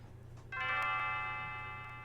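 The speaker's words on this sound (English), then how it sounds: "Lynn's bell is ringing for us." In the video game Chrono Trigger, Leene's bell rings once with a bright, sustained metallic chime that slowly fades over a low hum.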